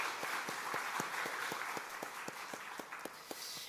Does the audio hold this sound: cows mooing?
no